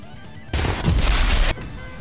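A sudden loud burst of gunfire and explosion noise during a GTA V race, lasting about a second over a quieter background before cutting off abruptly.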